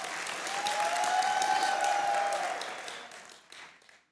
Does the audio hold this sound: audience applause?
yes